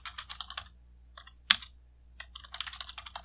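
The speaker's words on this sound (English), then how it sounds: "It's literally me on a text document typing." Fingers typing on a computer keyboard in a text document, bursts of close, quick key clicks with a short pause and one louder keystroke in the middle.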